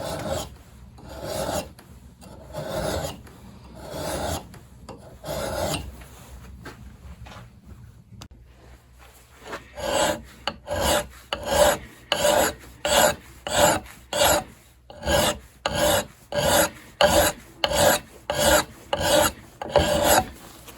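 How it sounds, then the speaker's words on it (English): Hand file rasping along a metal edge, slow separated strokes at first, then a quick steady run of close, gritty strokes in even rhythm. "a file will do most of what you need"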